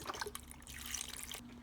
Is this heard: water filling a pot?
yes